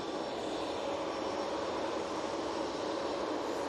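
An EasyJet jet departing Manchester Airport, its engines giving a steady, loud broadband roar that holds even throughout without any talk.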